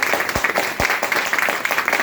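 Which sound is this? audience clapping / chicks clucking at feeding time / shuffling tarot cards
audience clapping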